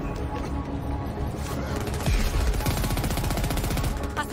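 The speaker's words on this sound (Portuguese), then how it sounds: "Tomando tiro aqui também." Rapid automatic gunfire and bursts of shooting in the Crackdown 3 video game co-op campaign, dense and continuous over loud game noise and mechanical clatter.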